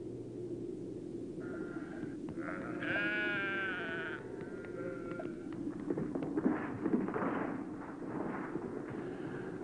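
Goats bleating on a barren, rocky mountain slope of Ararat among porous rocks and melting snow; several clear bleats come in close succession early on, over a steady outdoor rumble and wind.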